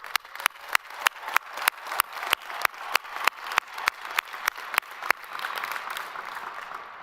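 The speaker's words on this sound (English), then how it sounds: "Let's give you one more big round of applause." Graduates and guests applaud at a spring 2022 university commencement ceremony, crisp, distinct claps over a broad wash of crowd clapping that holds steady before thinning into a softer murmur.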